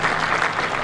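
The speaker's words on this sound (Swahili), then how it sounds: "Tuwapigie makofi hawa wadosi" Crowd applause for labour leaders at a Labour Day celebration at Uhuru Gardens, dense, steady clapping from a large outdoor gathering, no voices over it.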